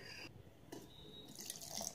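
Lukewarm water runs into a mixer jar packed with tamarind pulp, a quiet, close trickle and splash that starts and stops in short bursts.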